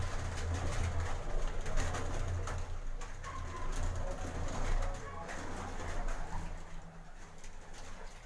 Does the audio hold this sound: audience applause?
no